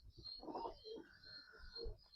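Pigeons coo softly in a few low, rounded bursts, faint and somewhat distant, with no voices.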